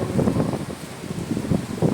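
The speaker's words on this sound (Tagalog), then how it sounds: "Super lakas ng hangin." Strong wind at a park buffets the microphone in uneven low gusts, rising and falling over a couple of seconds.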